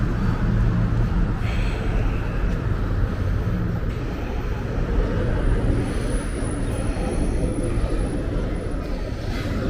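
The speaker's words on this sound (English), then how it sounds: "See the train up top?" A train rumbles along an elevated track above a street, a loud, continuous low roar that holds steady throughout with no talking over it.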